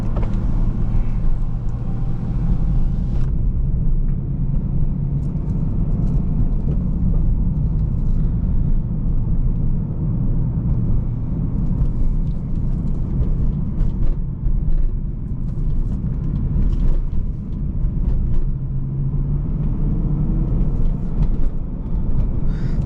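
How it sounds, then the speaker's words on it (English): A 2008 BMW M3 E92 with a high-revving V8 and six-speed manual transmission drives steadily, its engine producing a continuous low rumble with road noise throughout, no voices present. "High revving V8 made it to a manual transmission"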